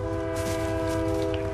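A train in the Fortnite video game gives a steady, loud rumble with sustained horn-like tones that hold throughout the short stretch.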